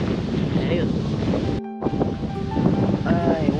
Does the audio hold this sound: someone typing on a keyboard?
no